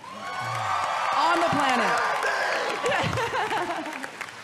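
A large convention audience at BlizzCon claps and cheers loudly throughout, a dense wash of applause with scattered whoops while a presenter keeps talking over it.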